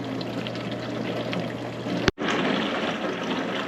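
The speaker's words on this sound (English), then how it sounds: "My guess would be we're in a rinse cycle now." A Capsule countertop dishwasher runs its rinse cycle with a steady close rush of sloshing, pouring water and a low hum, cut by a sharp click and a short pause before the flow resumes.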